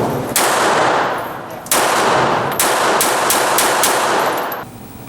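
Glock 42 pistol firing .380 ammunition in a series of rapid, loud shots close by, the reports coming in quick bursts with short pauses between groups before the firing stops.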